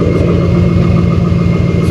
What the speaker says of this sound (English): Obviously it's idling right now. It's a cold start though